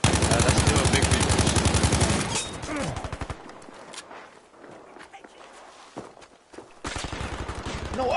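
Gunfire in a shooter video game match, a rapid automatic burst ringing out loudly at first, then quieter scattered shots and footsteps, before another fast volley closes it out.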